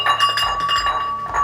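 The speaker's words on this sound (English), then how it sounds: "smashing dishes almost defeats the purpose" A ceramic dish is smashed on a laminate floor, giving a sharp crash followed by a rapid spray of ringing, clinking shards that scatter and fade out over about a second and a half, close and loud.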